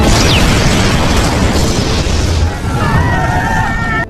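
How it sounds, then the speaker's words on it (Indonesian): In a film scene, a terrorist blows himself up, setting off a loud, close, roaring blast that fills the opening and rumbles down over a few seconds, with a sharper sound near the end. "saat akan ditangkap, Ali malah meledakkan dirinya sendiri"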